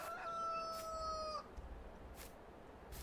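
A rooster crows once in Farming Simulator 19, a clear rising and falling call lasting just over a second, followed by quiet farm ambience.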